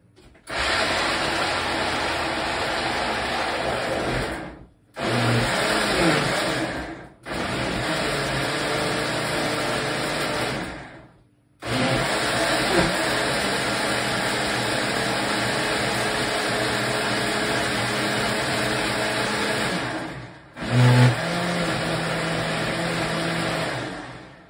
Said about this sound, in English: let's blend it up and make some noise